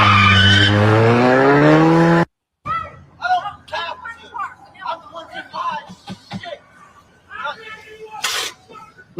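A car skids to a sudden stop with a loud, drawn-out tire screech lasting about two seconds, followed by shouting and agitated talk over the scene.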